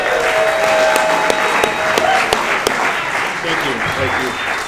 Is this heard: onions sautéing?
no